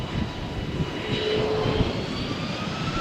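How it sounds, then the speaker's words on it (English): A jet airliner rolls into its takeoff run on Runway 13 at Malaga Airport on a stormy morning, a steady loud engine roar with rising whine tones holding throughout against a windy, rumbling background. "This is a rolling takeoff"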